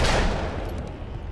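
Carbine shots in Alan Wake's American Nightmare: a loud, close burst of gunfire that rings out and decays over about a second, no voices.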